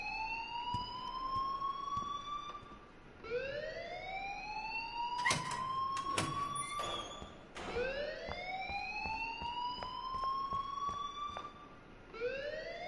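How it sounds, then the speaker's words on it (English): School alarm ringing in Life Is Strange, a loud rising siren-like wail that repeats in long sweeps, with clattering knocks and noisy bursts breaking in around the middle. "please turn off that alarm since that's your job"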